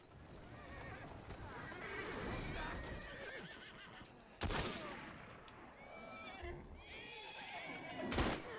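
A horse in the video game Assassin's Creed Syndicate neighs loudly and its hooves clop along during a gang war in Southwark, with bursts of gunfire and someone talking over the action.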